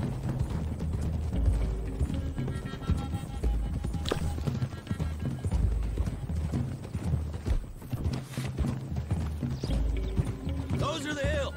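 In Red Dead Redemption 2, horses gallop with steady hoof clip-clops and jangling tack as the riders climb toward hills. A voice speaks faintly underneath, and a brief neigh rises near the end.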